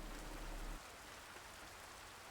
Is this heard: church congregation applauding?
no